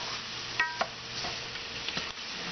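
Roux cooking in a pot on a lowered flame for shrimp couvillion: a soft, steady sizzle with a few light clinks and scrapes of a utensil stirring against the pot.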